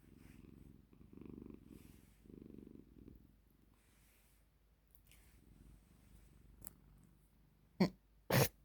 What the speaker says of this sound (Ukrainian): Котик хропотун.